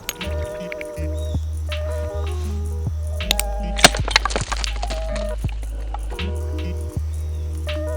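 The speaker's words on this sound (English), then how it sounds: "I have never tested this glass breaker before, so let's set it down here and see what kind of damage it can do." A Microtech Ultratech glass breaker strikes thick automotive glass, giving sharp cracking snaps and splintering crackles amid a sustained low hum and tonal background, the loudest burst near the middle.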